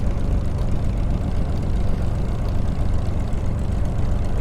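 Spitfire propeller engine droning steadily during takeoff in Microsoft Flight Simulator, a continuous low rumble at even volume with no talk over it.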